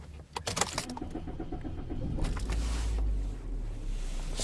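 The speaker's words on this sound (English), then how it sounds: "I've just restarted the vehicle now" A car engine restarts: a short crank with rattling clicks, then the engine catches and settles into a steady low idle, close by with no voices.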